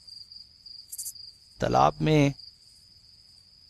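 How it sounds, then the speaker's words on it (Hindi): Crickets chirp at night in a lonely spot near a pond, a steady high continuous trill running throughout, briefly interrupted by a short burst of a man's speech in the middle. "झींगरों की आवाज के अलावा कभी कभी लोमड़ियों की आवाज भी आ रही थी"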